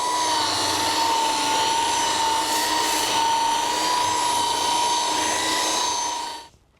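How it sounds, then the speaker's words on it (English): A polisher fitted with a 3000-grit pad whines at a steady high pitch while polishing a Quadra Fire cube, loud and continuous at close range, then cuts off abruptly near the end with no talking. "So I've put the final pad, the 3000 grit pad, on my polisher"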